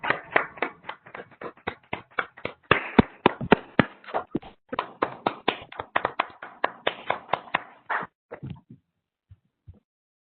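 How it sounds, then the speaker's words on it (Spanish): A small online conference audience applauds a speaker through their microphones, giving distinct, separate claps in an uneven rhythm that slowly thin out to a few last isolated claps before silence. "Les pido activar sus micrófonos para darles un fuerte aplauso a nuestro"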